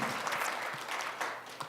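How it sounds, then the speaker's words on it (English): An audience at a leadership talk applauds volunteers, a steady patter of many hands clapping at moderate distance, fading slightly toward the end. "give our volunteers a round of applause"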